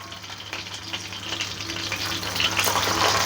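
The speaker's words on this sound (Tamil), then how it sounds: "ஃப்ரை ஆகிட்டு இருக்குது" Mutton seekh kebabs fry in hot oil in a pan. A steady, close sizzle slowly grows louder over a few seconds, with no talking.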